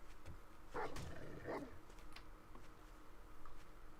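A dog barks in the survival video game 7 Days to Die: two moderate barks close together near the start, then fainter yips over low game ambience.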